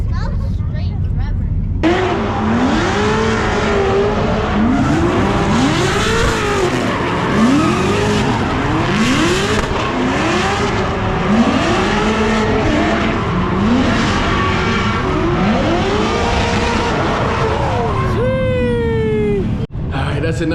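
Drift cars on a track during practice runs, engines roaring and tires squealing in repeated rising-and-falling sweeps, loud and sustained, with a closer engine rev near the end and voices faintly underneath.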